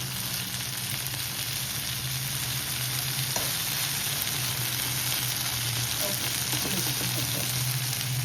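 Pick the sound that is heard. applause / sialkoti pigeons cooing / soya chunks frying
soya chunks frying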